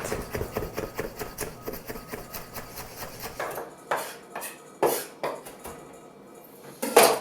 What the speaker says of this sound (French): On va hacher de l'aneth.